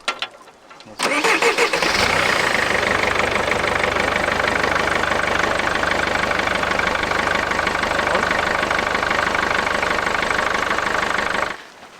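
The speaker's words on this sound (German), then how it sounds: "Starten wir mal das Auto" A car engine cranks and catches at about one second, then settles into a steady, loud idle that runs until it cuts off near the end, with no talk over it.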